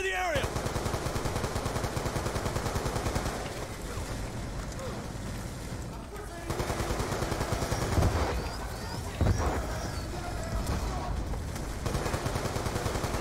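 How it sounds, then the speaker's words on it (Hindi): Rapid automatic gun turret fire in Call of Duty Black Ops 2, dense sustained bursts of gunfire running nearly throughout, with a few heavier thumps partway through. "ये तो ऑटोमेटिक गन्स हैं कोई रोबोट टाइप"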